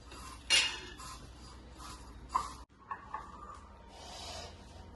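Chopped mint leaves stirred into a tikki filling, with a few sharp clinks of a spoon against a bowl and soft scraping in a quiet kitchen.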